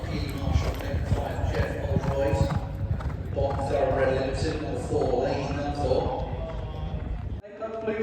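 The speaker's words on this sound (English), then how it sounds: "they will be let go by the groom and gallop into their warm-ups to prepare for the race" Racehorses galloping on the racetrack at Southwell Racecourse during pre-race warm-ups, a steady drumming of hoofbeats running through the whole stretch under continuous talk and a busy, noisy background.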